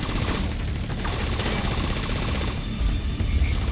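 Turrets fire in a video game, producing a dense, continuous barrage of rapid gunfire that stays loud and steady, with a heavier burst near the end.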